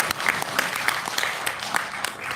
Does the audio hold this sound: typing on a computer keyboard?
no